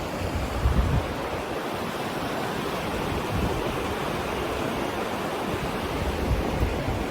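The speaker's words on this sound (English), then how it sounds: "This is the Popo River, crossing Bruce's Bridge now." The Popo Agie River flows beside Bruce's Bridge near Lander, Wyoming, on a wintry day: a loud, steady rushing of water with some wind buffeting the microphone.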